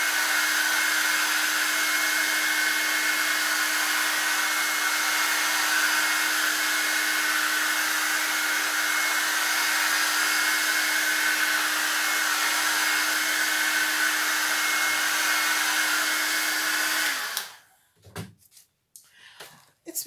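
A hair dryer blows with a steady, loud whirring hum for about seventeen seconds, then cuts off, followed by a few light knocks and handling sounds.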